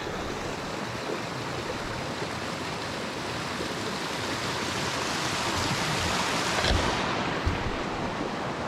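Steady rushing water of a Colorado mountain stream fills the whole stretch, a constant broadband flow with no voices, close and fairly loud.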